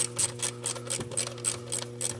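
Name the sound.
ratchet tightening ignition coil bolt on Ford 5.4L engine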